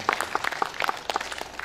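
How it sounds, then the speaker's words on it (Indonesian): An audience at an arts and culture discussion forum bursts into brisk applause, many hands clapping at once in a dense, steady patter with no talking over it. "tepuk tangan."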